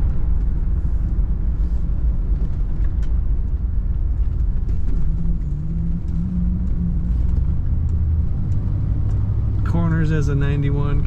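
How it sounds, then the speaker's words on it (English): A 1991 Cadillac Brougham sedan cruises along a road, its low steady engine and tire rumble continuous inside the cabin, with someone talking over the drive near the end. "Very smooth ride in Cadillac, as they should be. Quiet ride."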